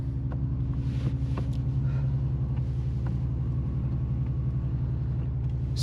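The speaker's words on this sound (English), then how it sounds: "Give the car some power." A 2024 Mercedes-AMG CLE 53 Coupe engine runs with a steady, loud, deep rumble heard from inside the cabin, holding a constant throbbing tone throughout rather than rising in sharp revs.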